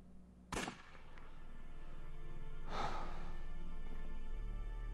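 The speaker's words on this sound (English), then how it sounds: "Was that a gunshot?" A gunshot in the point-and-click adventure game Unavowed: a sharp, loud crack near the start, followed by a second softer burst about two seconds later, set over a low steady ambient hum.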